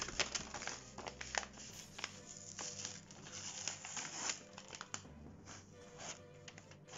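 Soft, close crinkling and rustling of paper, continuous with small sharp crackles, fairly quiet.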